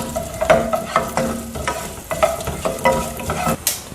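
Coriander seeds and fenugreek roasting in hot oil for sambar, crackling sizzle with frequent clattering stirs of a spatula in the pan, close and moderately loud, no voices.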